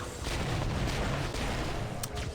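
In Halo CE, a thrown frag grenade detonates amid dense, continuous gunfire, with booming low rumble and crackling shots packed together throughout and a sharper burst near the end.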